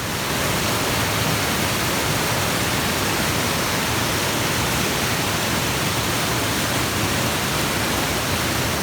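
A swollen river bursting its banks during a storm in the Galloway woods of Scotland, a constant loud, dense roar of rushing water, close and unbroken.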